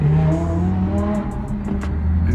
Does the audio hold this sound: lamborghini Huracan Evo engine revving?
yes